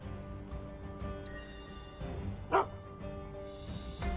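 A dog in Final Fantasy VII Rebirth, in the town of Junon, gives a single short bark midway through. It sits over soft in-game ambience and music, and no other barks follow.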